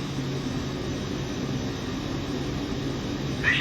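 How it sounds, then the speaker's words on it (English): Cirrus Vision Jet SF50 single-engine jet climbing out after takeoff in Microsoft Flight Simulator, a steady loud broadband roar with a constant low hum underneath, uninterrupted throughout. "It's pretty loud for a single engine jet."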